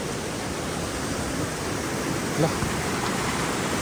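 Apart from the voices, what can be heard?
loud mountain river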